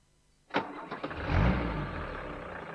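A Citroen HDI common-rail diesel engine cranks and fires up, with a sharp start, a few clattering pulses, then a rough, loud idle that fades slightly.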